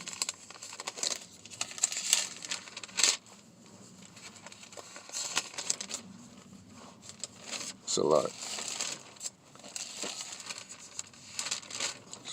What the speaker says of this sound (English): You be having trouble turning the pages